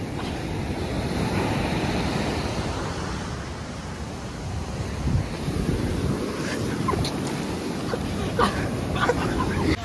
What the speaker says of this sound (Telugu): ఫైనల్లీ మేము బీచ్ లో ఉన్నాం.